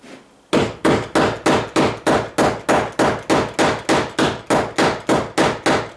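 Steady hammer strikes ring out inside a shed, about fifteen sharp, loud metallic blows at an even pace of roughly two and a half per second, each one decaying quickly, close by and with no voices.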